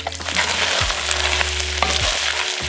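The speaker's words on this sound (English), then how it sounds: "Going in with the vegetables. So this is a combination of onions, poblano peppers, garlic." Onions, poblano peppers, garlic, serranos and jalapenos sizzle loudly in a hot pan, a dense continuous hiss broken by a couple of stirring scrapes, with no voices.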